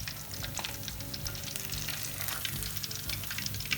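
Fish pieces for a Lahori fish fry sizzle steadily in oil over low heat, a continuous close crackle with small pops and occasional stirring, no voices.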